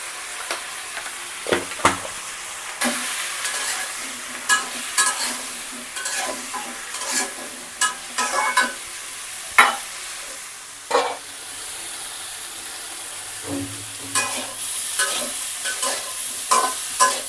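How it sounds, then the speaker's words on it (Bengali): Vegetables fry in a pan with turmeric and salt, a steady low sizzle broken by frequent scraping and stirring clatters from a spatula, close and fairly loud, with no talking. "সবজি ভাজি হয়ে গেছে, নামিয়ে নিব।"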